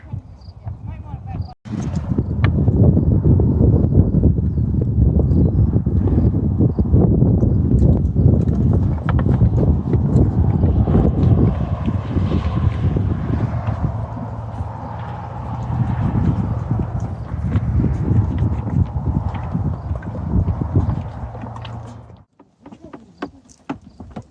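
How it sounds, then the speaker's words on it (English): Horses at dinner time moving and eating in a barn, with continuous clopping hooves, shuffling and muffled chewing, close and fairly loud for most of the stretch, then dropping off near the end. "Just some horsey butts at dinner."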